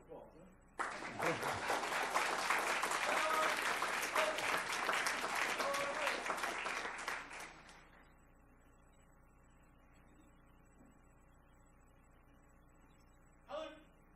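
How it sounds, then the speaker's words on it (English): Applause at a school board meeting, a burst of clapping from the room lasting several seconds before cutting off into quiet room tone, followed by a brief faint sound near the end. "another round of applause"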